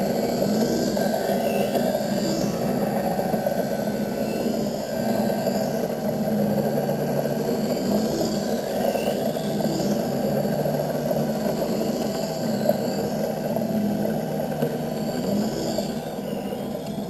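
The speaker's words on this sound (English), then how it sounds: "Now this arm's going to come down, and this little blade is going to start spinning very fast" A spinning blade on a spectacle lens cutting machine grinds into a lens, giving a steady, fairly loud mechanical whir with a faint whine that holds evenly throughout, with no voices.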